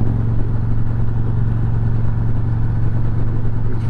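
A Victory Cross Country motorcycle cruising at 60 mph gives a steady, low engine drone blended with dense wind buffeting, heard close and continuous with no change in pitch.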